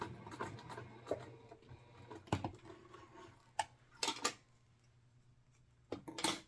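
A sewing machine back-stitches along the seam of a handmade bag in short bursts, its low motor hum broken by clicks and sharp clatters as the fabric is turned and handled.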